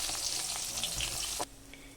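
Koi fish sizzle and crackle in hot oil, a dense frying hiss that suddenly drops to a quiet background near the end.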